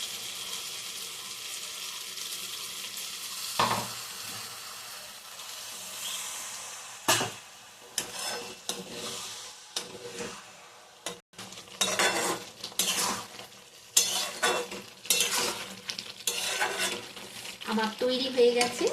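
Egg and mushroom curry being stirred in a pan after a splash of water, with repeated clinks of a utensil against the pan over a soft sizzle, louder and busier toward the end.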